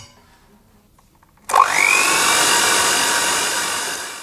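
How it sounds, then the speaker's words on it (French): An electric whisk starts abruptly and runs steadily, loud and close, whirring through cookie batter with egg and vanilla for Nutella-filled cookies. "Et ensuite on va continuer à fouetter tranquillement."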